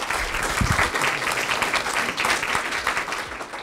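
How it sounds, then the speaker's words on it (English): A workshop audience in Houston gives a sustained round of applause for a panel, dense clapping held at an even level from start to finish. "give a round of applause to our panelists"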